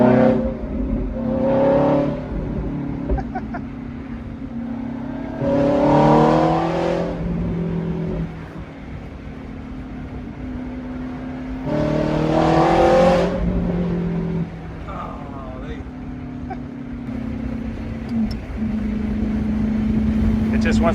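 A Ferrari F430 engine revs in surges while driving, swelling and falling several times from inside the car, with people talking over the engine noise between bursts.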